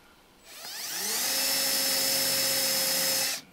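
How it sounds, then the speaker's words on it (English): A power drill with a 1/8 inch bit spins up and bores into a wooden fence board, a single high whine that rises in pitch, holds steady for about three seconds, then cuts off abruptly. "Now you can take a 1/8 inch bit and just run it straight up into there."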